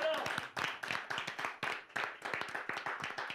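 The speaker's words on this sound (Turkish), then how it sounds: "Kocaman alkışlar gelsin." An audience claps at a Turkish TV music programme, the claps coming as distinct, fairly quick slaps in an even rhythm that lasts the whole stretch, close and not very loud.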